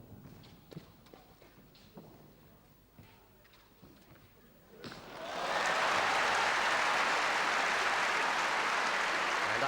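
Badminton match crowd bursting into loud sustained applause midway, after a quieter stretch of scattered shuttle hits and footsteps, the clapping building into a dense steady roar of hands.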